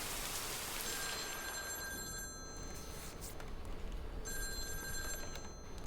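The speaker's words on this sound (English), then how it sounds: "Phone rings." A telephone rings indoors in two distinct bursts of electronic ringing, separated by a pause, over a steady background hiss like rain.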